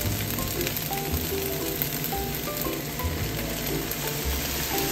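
Soy sauce hits rice frying in a hot pan, producing a dense, even sizzle close by that holds steady throughout with no talking.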